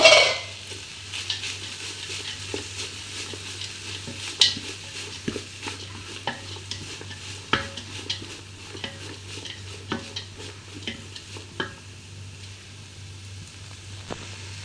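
Chopped cabbage is stirred and fried in a pan for chicken kottu, giving a low steady sizzle with repeated scraping and clinking strokes of a utensil against the pan at irregular intervals.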